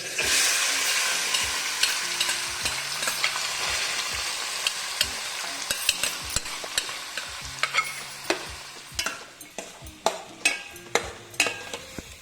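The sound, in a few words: chopped fruits stirred and frying in ghee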